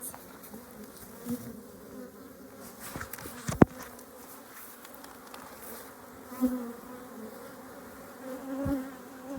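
Honey bees buzz steadily around an open hive as frames are worked, a dense close hum with a couple of brief knocks and bumps from handling.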